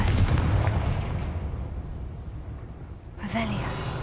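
A Confringo fire-spell explosion in the video game Hogwarts Legacy, a heavy booming blast with a rumbling tail, followed by a second sharp burst, with a voice briefly speaking near the start.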